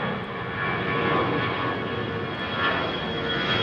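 A jet aircraft taxiing at London Heathrow Airport, heard as a steady, broad engine roar at moderate distance that holds even throughout, with no speech over it.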